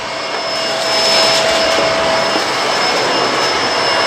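A Bissell Multi Clean Allergen Pet vacuum cleaner runs close by with a loud, steady roaring whoosh and a thin high whine, swelling slightly as it works over a floor scattered with pet food and dirt.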